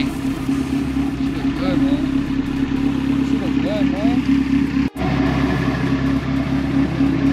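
A 1992 Honda Civic with a built B20V engine idling nearby, a steady even drone holding throughout with a brief dropout near the middle, while people talk over it.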